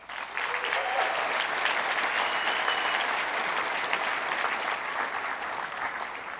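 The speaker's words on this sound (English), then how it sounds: "people can give you a round of applause" Audience applause at a penny-stock trading seminar in Las Vegas, a steady even wash of many hands clapping that builds quickly and holds through the end, with faint talk beneath.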